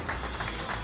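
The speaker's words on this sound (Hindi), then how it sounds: "गिल साहब को जोरदार तालियां गिल साहब के लिए।" Brief applause from an audience at a Baba Saheb Jayanti celebration in Chandigarh, a short burst of steady clapping without pause.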